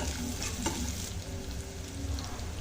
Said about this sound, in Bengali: এখন এগুলো নেড়েচেড়ে কিছুক্ষণ ভেজে নেব।